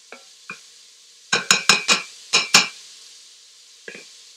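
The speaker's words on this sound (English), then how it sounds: "I want them to be part of the saute." Curry leaves sautéing with aromatics for kitchari, heard as a burst of five or six sharp, close clinks and scrapes of a utensil against the pan, with a few softer taps before and one after.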